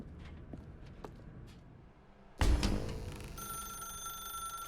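An old-style telephone rings loudly and close in The Stanley Parable video game, starting suddenly partway through after quiet footsteps and faint ambient sounds, then holding a steady bright ringing tone.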